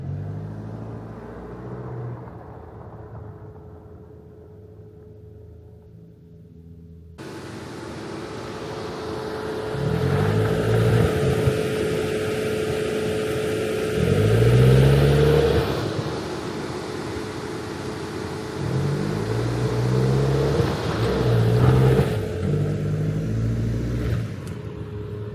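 Car driving on a road through the desert near Borrego Springs: a quiet low hum for the first seconds, then a louder, steady engine and road rumble with swelling pulses, heard up close from inside the car with no talking.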